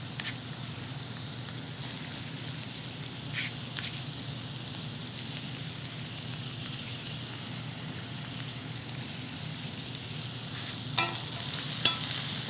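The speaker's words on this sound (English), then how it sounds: "And give it a quick stir." Carrots and celery frying with onions in a pan make a soft, continuous sizzle, with a couple of sharp spoon clicks against the pan near the end as it is stirred; close, fairly quiet, no talking.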